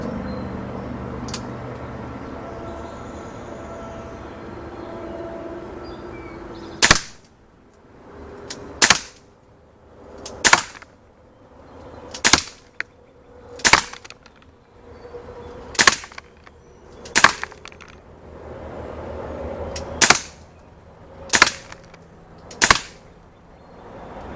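A Daisy Powerline 426 CO2 air pistol fires about eleven sharp, snappy shots at irregular intervals of one to two seconds, close and loud over quiet outdoor background hiss.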